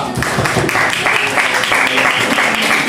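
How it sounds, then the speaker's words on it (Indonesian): A school audience claps for a student named Satrio in a classroom, producing close, lively, continuous applause across the whole stretch without speech. "tepuk tangan buat Satrio"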